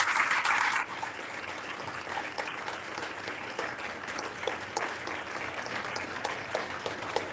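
An audience at a Utah County Commission candidate debate in a school hall claps steadily, a louder burst at first that settles into an even, sustained patter of many hands.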